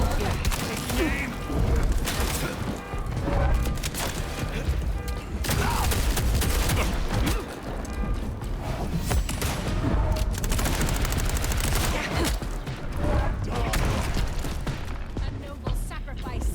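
Video game gunfire in Vampire: The Masquerade - Bloodlines 2, with dense, rapid bursts of shots and clattering mechanical effects layered under loud game sound and voices throughout.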